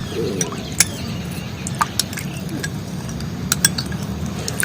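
Aloe vera gel is stirred into a glass of tea, fenugreek and black cumin water, with a spoon clinking sharply against the glass a handful of times over a faint background hiss.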